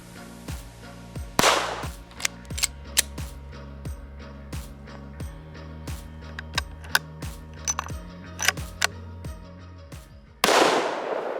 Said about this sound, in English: Bullets versus cinder blocks.